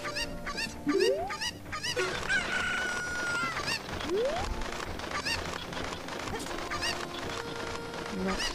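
A chicken in Zelda: Ocarina of Time gives repeated crowing and clucking squawks, rising cries scattered over several seconds amid busy game sounds and effects.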